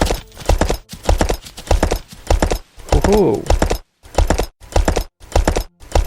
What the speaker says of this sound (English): this is some serious off-road horse riding right here.